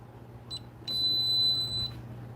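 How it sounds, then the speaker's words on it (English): A malfunctioning alarm at an aquarium setup gives a short beep, then a longer sustained high electronic tone lasting about a second, heard close and alone over a low steady hum. "What the frick is wrong with this damn alarm?"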